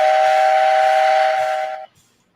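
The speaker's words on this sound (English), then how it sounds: "That sounded like the Flintstones whistle." A loud steam whistle blows close by as one steady, sustained tone, then cuts off sharply into near silence.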